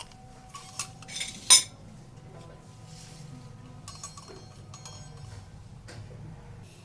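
A utensil cuts through a Spanish omelette in a pan, giving a few scattered metallic clinks and scrapes, one sharp knock near the start, then quieter tapping under a faint background hum.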